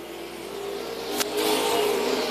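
Late model race cars at a Grand National Super Series race at Tri-County Speedway roar steadily as the field accelerates on the green flag, a dense engine drone rising slightly toward the end, with a brief sharp burst in the middle.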